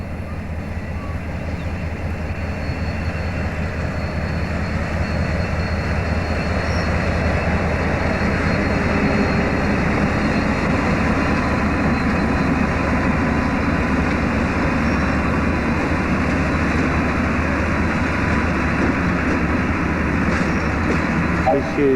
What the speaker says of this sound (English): There's an A-class here on the Melbourne bound train.